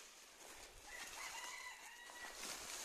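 Hens on a farm calling in alarm, a few thin chirring and clucking calls heard at a distance over a faint, airy background.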